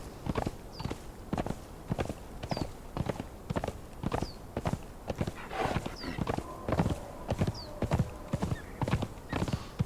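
Steady, rhythmic hoofbeats of a galloping horse in the video game Conan Exiles: Isle of Siptah, loud and close, with an occasional whinny mixed in; no talking.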